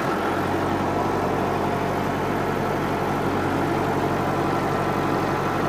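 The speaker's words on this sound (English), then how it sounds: "I need to start the tractor" A farm tractor runs steadily with its PTO engaged to drive a sprayer, giving a continuous low, even engine drone with no talk.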